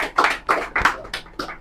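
An audience at a lecture gives a short burst of applause, five or six distinct, fairly loud clustered claps over about a second and a half.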